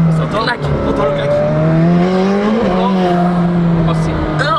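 A McLaren 765LT convertible at full throttle on an open road, its engine roaring in a loud, rising and falling drone with a sharp clack partway through, while excited voices talk over it.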